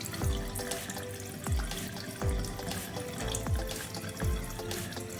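Steady water pours from a tap into a plugged sink, a close continuous splashing rush with recurring gurgles and drips, no voices.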